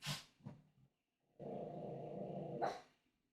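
A dog barks in a few quick sharp bursts close by, then lets out a longer, sustained growling bark, in an otherwise quiet room.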